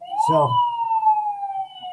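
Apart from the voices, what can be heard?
police patrol car siren being tested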